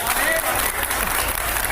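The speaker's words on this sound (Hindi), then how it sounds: "इस बात पे तालियां होंगी क्या?" An audience claps together in a short burst during a spiritual discourse gathering, a dense, steady patter of applause throughout, with no clear talk over it.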